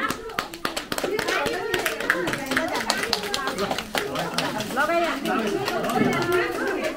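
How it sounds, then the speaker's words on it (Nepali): A group claps steadily throughout at a Lions Club of Baglung Muktinath school uniform distribution for Deurali primary school pupils, dense overlapping hand claps with chatter and voices mixed in. "ल ताली"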